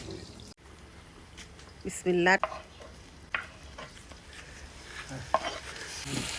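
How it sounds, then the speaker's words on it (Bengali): Spices fry and get stirred in a pot over a wood-fired stove, with soft sizzling and scraping under intermittent nearby voices. "একটুখানি এক দুই মিনিট ভাইজে মশলাগুলা দিয়ে দিব না খড়ির চুলায় রান্না খাইতে চাইলে কষ্ট করে খাইতে হবে"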